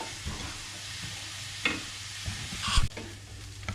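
Onions sautéing in a pan for a vegetable curry, a continuous close sizzle with intermittent stirring scrapes and a louder clatter of the spoon near the end.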